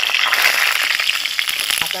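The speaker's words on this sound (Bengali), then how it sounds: "আলুগুলো দেখো কি সুন্দর ভাজা হয়ে গেছে" Potatoes fry in hot oil, for a curry with duck eggs, with a steady, dense sizzle and crackle, loud and close, with the occasional clink of a utensil.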